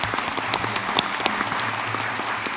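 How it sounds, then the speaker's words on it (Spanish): An audience applauds speakers at the close of a Spanish-language academic session: a short round of clapping, moderately loud and steady, with a low hum beneath it. "Les pido un aplauso, por favor."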